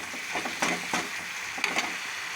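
Chilies and chana dal fry in a hot pan, a steady close sizzle broken by a few sharp stirring scrapes and crackles.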